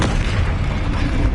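The Bombarda blasting spell explodes in Hogwarts Legacy, a loud, dense, continuous booming rumble that fills the whole moment like heavy artillery, with no voices.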